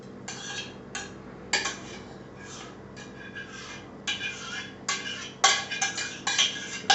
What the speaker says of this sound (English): Adding the gorgonzola gently to the mix.